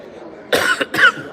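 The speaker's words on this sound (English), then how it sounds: "Still have the nagging cough" Two quick, harsh coughs close up from a lingering, nagging cough, one right after the other, with a brief pause between.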